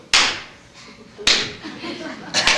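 A few slow, sharp hand claps ring out one at a time, with long gaps between them, in a sorrowful demonstration of clapping in a church sermon.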